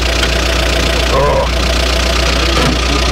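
A UAZ Bukhanka van engine idles nearby with a steady, slightly knocking low hum that runs continuously, with a brief voice murmuring over it partway through.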